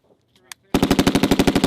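An M240B or M249 machine gun fires a rapid, even burst of about a dozen loud close shots at a qualification range, following a short quiet moment with faint clicks.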